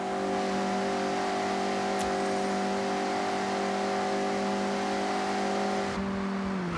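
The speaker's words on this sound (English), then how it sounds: "The MX-5 likes to be sideways." A Mazda MX-5 engine in the racing game Forza Horizon 6 holds a steady, loud drone at constant revs, with layered harmonic tones, then the pitch and level dip briefly near the end.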